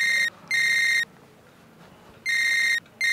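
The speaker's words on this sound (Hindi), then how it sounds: "मेरी बीवी का भी फोन आ रहा" A mobile phone rings with an incoming call, a bright electronic ringtone sounding in three short bursts separated by gaps, close and loud with no talking.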